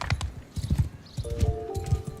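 Horse hooves clip-clop in the medieval video game Mount & Blade II: Bannerlord, a loud, close, fast rhythmic patter of hoofbeats, with a brief tonal game sound near the end.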